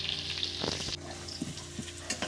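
Potatoes for Kashmiri dum aloo frying in oil, a dense continuous sizzle with a few soft stirring knocks, close and steady throughout.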